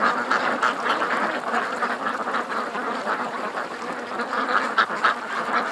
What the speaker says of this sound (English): More and more ducks are coming up the creek,